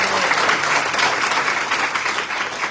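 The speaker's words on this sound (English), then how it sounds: "To all musicians, please give them a round of applause." An audience at a live music night in Durban claps for the musicians, a dense, steady wash of applause that holds evenly for a few seconds.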